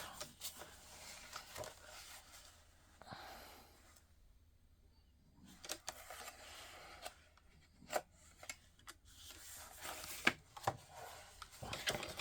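Scissors snip through paper card in scattered short cuts, close and fairly quiet, with pauses and soft handling rustles between the snips.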